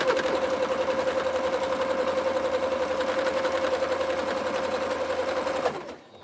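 A sewing machine stitches soup bowl cozy pieces in a fast, steady mechanical whir with an even rhythmic chatter, running close and continuous before stopping abruptly near the end.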